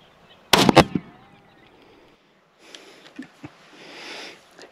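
A rifle shot fired while hunting prairie dogs on open public land in Montana, one loud sharp crack with a quick double report near the start, followed by quieter rustling and faint outdoor noise.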